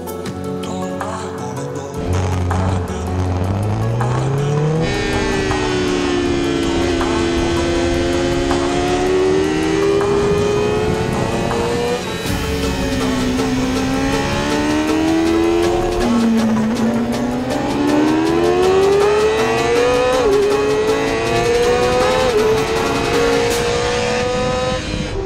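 Racing motorcycle lapping the Cremona circuit, its engine loud and close, climbing and dropping through gear changes in continuous rising and falling revs over a long session.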